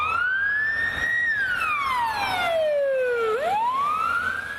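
Ambulance siren wailing in city traffic, a loud, close electronic tone sweeping slowly down and then rising again, with a low road rumble underneath.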